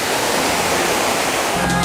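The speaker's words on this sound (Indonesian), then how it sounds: "suara gemericik air pun semakin terdengar menyapa dan menyambut kedatangan saya" Water rushes continuously at Parangkikis waterfall in Gambiran village, Pagerwojo, a dense, loud, steady roar heard close up throughout the short stretch.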